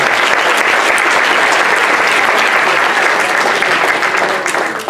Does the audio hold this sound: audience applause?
yes